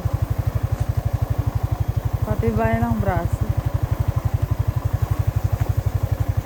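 A motorcycle engine runs close by with a steady, rapid idle-like putter throughout, loud and continuous, while a person briefly speaks over it.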